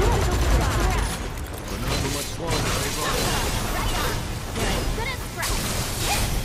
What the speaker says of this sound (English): Oh god, sentry gun.